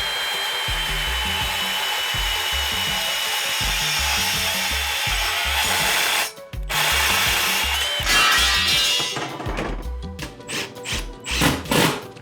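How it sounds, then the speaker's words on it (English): A saw cuts through a piece of metal unistrut strut channel with a steady, rhythmic rasp of repeated strokes. A brief pause comes partway through, then irregular clanks and handling noises follow as the cut piece is dealt with. "The first thing I'm doing is cutting a piece of unistrut"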